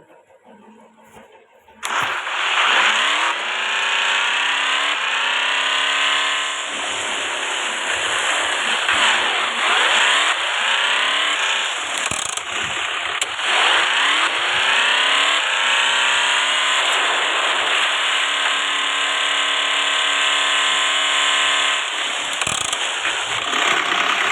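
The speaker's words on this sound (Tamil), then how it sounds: "இப்போ வாட்டரில் விட்டால் என்ன சவுண்டு கேட்குதுன்னு இப்போ இந்த வீடியோவில் பார்ப்போம்" An off-road vehicle in the Off the Road video game drives into water. The loud engine kicks in after about two seconds and revs continuously, its pitch sweeping up and down, with no talk.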